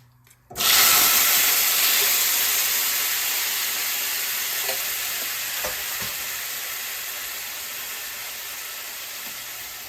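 Tempering spatters and sizzles loudly in a pan over a low flame as moong dal goes in for a dal, a sudden burst of steady frying hiss that starts abruptly and slowly eases with a few pops.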